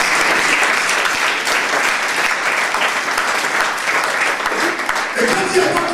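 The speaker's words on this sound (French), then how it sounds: "Applaudissons notre Dieu." A church congregation claps loudly and continuously for six seconds, a dense wash of many hands with voices mixed in beneath the applause.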